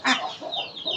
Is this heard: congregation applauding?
no